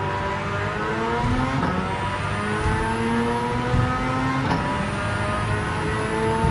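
Suzuki Escudo engine in Gran Turismo 7, a steady high-revving race engine holding one gear with rising harmonic tones and faint shift blips, loud and close throughout.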